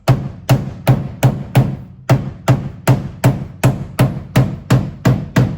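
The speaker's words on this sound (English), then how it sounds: "I'm gonna try hitting it with a shop hammer" Shop hammer blows on the rusty fender of a 1968 Ford Thunderbird, about fifteen loud hard strikes in a steady, regular rhythm, each with a short ringing decay, up close with no talking.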